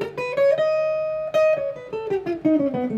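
Guitar playing a whole tone scale starting on F, single plucked notes moving in a quick run up and back down, close and clear with no talking.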